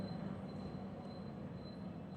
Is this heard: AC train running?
yes